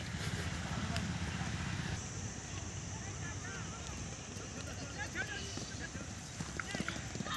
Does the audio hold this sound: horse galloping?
yes